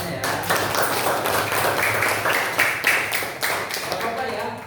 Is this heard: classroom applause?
yes